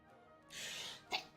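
A man's short, close sneeze, a hissing burst followed by a sharp snap, heard alone in a quiet room.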